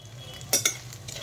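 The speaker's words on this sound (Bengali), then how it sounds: "আদা বাটাটা একটুখানি ভাজা হয়ে গেছে" Ginger paste fries in a pan for a vegetarian khichuri curry, with two quick, sharp utensil scrapes close together over a faint, low sizzle.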